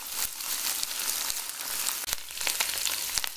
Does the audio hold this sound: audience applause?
no